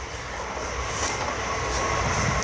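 A metro train rumbles steadily with a continuous roar and some high metallic hiss, loud and close as if heard from inside a carriage.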